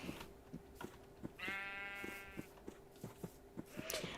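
A Minecraft sheep lets out a single drawn-out bleat among soft rhythmic footstep taps, quiet and close.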